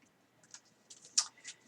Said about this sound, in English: So let's shuffle up these cards.